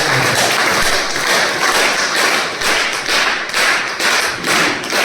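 Indoor audience at a distributor company meeting clapping loudly and steadily, a dense run of hand claps with slight swells and dips throughout.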